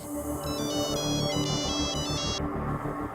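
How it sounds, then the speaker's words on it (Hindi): A mobile phone in a pocket rings with a repeating electronic ringtone melody of high pulsed tones over a constant background bed, ringing steadily and then stopping before the end. "उसकी जेब में रखा हुआ फोन मुसलसल बज रहा था"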